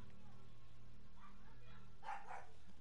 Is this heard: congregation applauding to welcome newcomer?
no